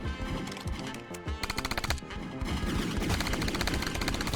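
Dense automatic gunfire in the zombie survival shooter Zombie Raid, rapid-fire bursts rattling almost without pause over game music and effects, loud and continuous with a short choppy volley in the middle.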